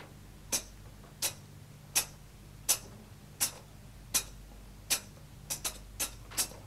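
A human voice imitates a beatbox hi-hat with crisp, hissing clicks, about ten sharp strokes at a steady, unhurried pace, ending with a slightly quicker pair, heard alone and close.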